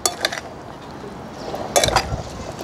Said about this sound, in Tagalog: So haluin na muna natin.